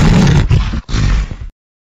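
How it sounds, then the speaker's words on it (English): A lion gives a deep, rough roar, loud and close, in two throaty bursts split by a brief breath, lasting about a second and a half before cutting to silence. "Lion."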